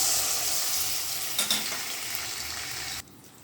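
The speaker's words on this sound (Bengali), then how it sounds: "তেল গরম হয়ে গেছে এখানে আমি আদা বাটা পেঁয়াজ বাটা এবং রসুন বাটা দুই চামচ করে দিয়ে দিলাম" Ginger, onion and garlic paste hits hot oil in a pan and sizzles loudly and close, a bright steady hiss with a brief stirring clatter midway before it suddenly drops away near the end.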